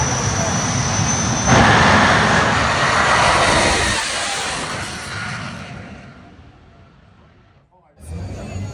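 Loud, steady roar of four helicopter turbine engines running nearby on a jet vehicle, building briefly before fading, with a burst of noise returning at the end.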